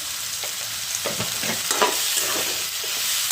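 Soaked lentils tumble into a pan of sizzling ridge gourd curry and are stirred through, with soft scraping and a steady hiss of frying underneath.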